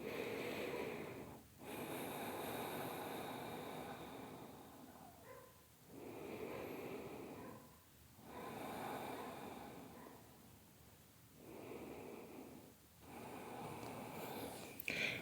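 Slow, deep breaths during a gentle yoga stretch for the lower back and hips, four or five long, steady inhale-exhale cycles that are close and fairly loud, with short pauses between them and no talk.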